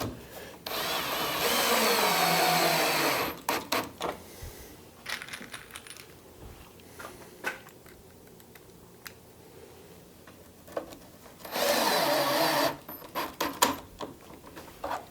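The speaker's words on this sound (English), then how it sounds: "when you're using bronze screws and a screw gun, you have a good opportunity to wring the head right off it" A screw gun drives bronze screws in two long whirring runs, one near the start and one near the end, each lasting a couple of seconds. Between them come clicks and light taps from handling the tool and workpiece.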